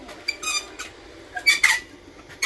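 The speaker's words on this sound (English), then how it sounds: "My chair's squeaky." A few short, high squeaks, like a chair creaking under shifting weight, sound close and fairly quiet.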